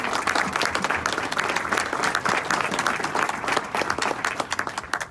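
A breakfast audience at a Chester County, Pennsylvania event applauds two honorees from the local economic development council, with dense, steady clapping from a large crowd that keeps going for the whole stretch.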